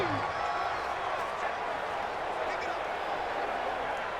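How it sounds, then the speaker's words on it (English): A stadium crowd in Madden 20 keeps up a steady, broad roar of cheering and noise throughout, at an even level under commentary voices. "this crowd urging on their defense. They're up and making noise"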